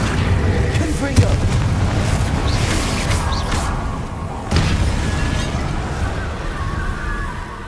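Confringo blasting spell bursts in Hogwarts Legacy, heavy booming explosions layered with spell effects and game music, forming a dense, loud, continuous mix with a sharper blast about midway.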